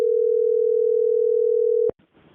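A steady phone dial tone from a call placed through Google Hangouts drones loud and unbroken for nearly two seconds, then cuts off abruptly into faint line noise.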